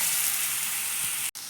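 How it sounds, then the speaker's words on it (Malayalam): Mustard seeds spluttering in hot oil while tempering for a Kerala upperi stir-fry: a steady, close, dense sizzle with faint crackles, broken by a brief silent gap near the end. "ആദ്യം കുറച്ച് കടു ഇട്ടിട്ട് പൊട്ടിക്കാം"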